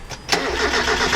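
A car engine running on straight moonshine cranks briefly, then catches and settles into a steady, loud idle close by.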